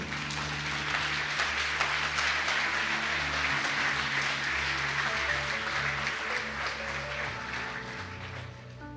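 A church congregation applauds at a Sunday service, dense sustained clapping filling the room for the whole stretch and thinning slightly at the end, with a low steady tone underneath.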